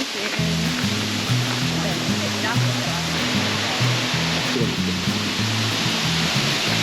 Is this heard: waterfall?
yes